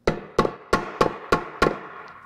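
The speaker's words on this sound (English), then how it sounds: "we're gonna take the soft hammer and we're just gonna tap on the input shaft to make sure that it's seated all the way down" A soft hammer tapping the input shaft of a Honda manual transmission to seat it: six evenly spaced, close, solid taps, each ringing briefly, with no talking.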